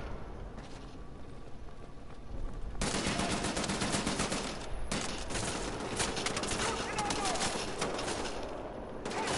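Dense bursts of rapid gunfire in the shooter game Wolfenstein The New Order, starting quieter and then erupting into loud, sustained automatic fire that keeps rattling through the rest of the stretch.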